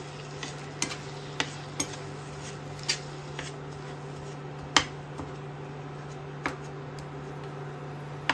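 Jaggery melting in a pan while being stirred, with soft scraping and occasional sharp taps of the spoon against the pan over a steady low hum.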